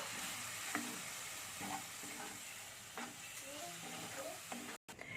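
Spiced masala of salt, coriander powder and cumin powder sizzles in a pan with a splash of water while a spoon stirs it, a steady close frying hiss with soft scraping strokes throughout.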